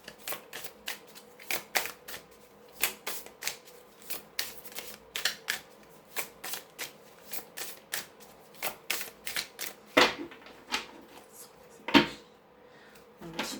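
Oracle cards being shuffled by hand, a quick run of crisp papery riffles and taps repeating steadily and close, with a couple of firmer knocks near the end.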